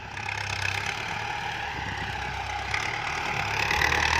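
Mitsubishi GX5000 tractor engine running steadily while pulling a rice seeder in a field, a continuous close mechanical drone that swells slightly louder toward the end, with no talking.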